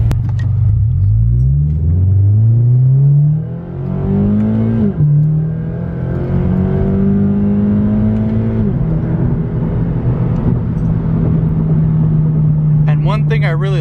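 A Scion FR-S with an Invidia N1 cat-back exhaust and an automatic gearbox in manual mode revs hard on an open road. The deep exhaust note climbs through several loud, rising pulls, dips between shifts, then holds a steady drone close to the microphone.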